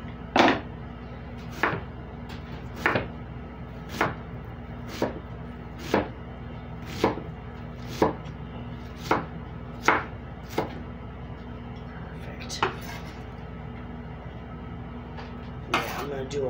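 An onion being chopped into small pieces with a knife on a board, about a dozen crisp evenly spaced chops, close and clear over quiet background.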